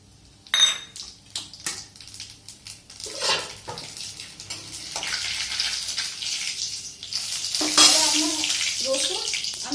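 Eggplant pieces hitting hot oil seasoned with black cumin and salt in a kadai, a sizzling fry that swells and stays steady, with clinks of a metal utensil against the pan close by.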